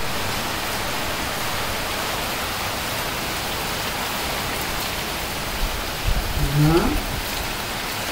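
Steady rain pours down throughout, a continuous dense hiss of drops on surfaces, and near the end a voice briefly speaks over it.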